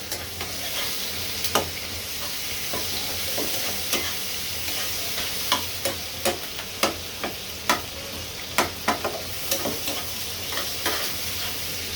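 Prawns rubbed with turmeric and salt frying in oil, giving a steady loud sizzle with regular sharp spatula taps and scrapes against the pan throughout.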